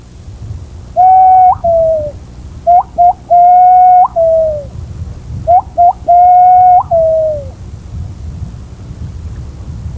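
A man whistles an imitation of the pomba legítima dove in three loud, close phrases, each of short and drawn-out cooing notes that bend and fall at the end, with quiet gaps between them.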